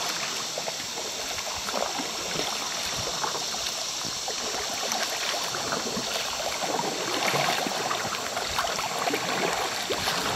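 River rapids rush and churn steadily around a small boat, a broad, even wash of water sound with no voices.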